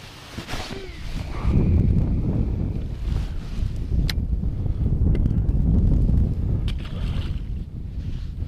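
Wind buffets the microphone on a drifting fishing boat in Galveston Bay in winter, loud low rumbling gusts with water lapping and a few sharp knocks against the hull.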